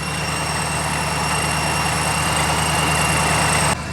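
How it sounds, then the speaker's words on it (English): A supercharged Ford Mustang GT idles with a steady, loud engine drone and a constant high-pitched whine from its straight-cut gear centrifugal supercharger, holding unchanged throughout with no talk. "Listen to mine. It's all supercharger whine. It's the gears inside of there."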